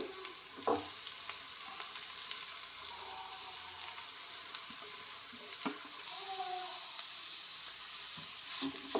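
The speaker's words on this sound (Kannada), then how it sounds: "ಈಗ ಈರುಳ್ಳಿ ಫ್ರೈ ಆಗಿದೆ. ಈಗ ಇದಕ್ಕೆ ತುರಿದಿಟ್ಟಿರೋಂಥ ಮೂಲಂಗಿನ ಸೇರಿಸ್ತಾ ಇದ್ದೀನಿ" Grated radish goes into a pan of fried onions and curry leaves and sizzles at low volume. A few sharp clinks from stirring come through at irregular moments, with no talking.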